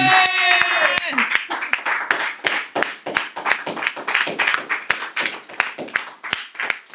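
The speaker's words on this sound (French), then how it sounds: "Applaudissez pour vous-même." A church congregation at a Sunday service claps in a steady, rhythmic beat, sharp hand claps repeating evenly for several seconds while a voice and some tonal sound fade out at the start.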